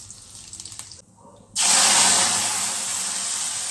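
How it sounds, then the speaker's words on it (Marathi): Cumin seeds hit hot oil in an iron pan with a sudden loud, steady sizzle that rises sharply after a brief quiet and holds to the end, close and bright. "आता इकडं आपण लोखंडाच्याकडे तेल ठेवलं आहे गरम करायला. याच्यात आपल्याला जिरे टाकायचे आहे."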